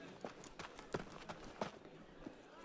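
Horse hooves clip-clop in an Assassin's Creed chase, a run of distinct, evenly spaced hoof strikes at moderate volume with no talk over them.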